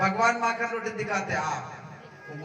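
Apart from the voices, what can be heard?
None of the usual background noises is heard.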